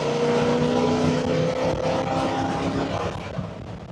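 A 502 cubic inch V8 in a 1972 Chevrolet K10 Cheyenne truck revs loudly and steadily up close, holding a deep, throbbing roar that eases slightly toward the end.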